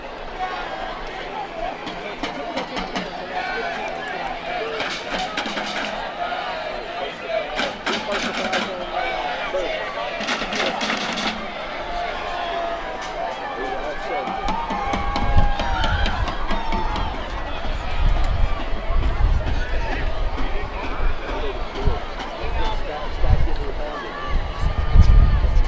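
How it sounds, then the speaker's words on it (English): A rowdy home crowd at a high school football game, Boone versus Winter Park, makes a continuous roar that grows louder and rowdier toward the end, with a commentator talking over it throughout. "the rowdy crowd for the Braves is cheering"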